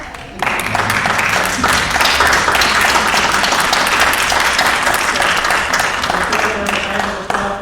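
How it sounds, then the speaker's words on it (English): A crowd at a county board of education meeting breaks into loud, sustained applause for an award recipient, dense clapping filling the whole stretch with voices mixed in under it. "Now, Rita, you better cheer loud."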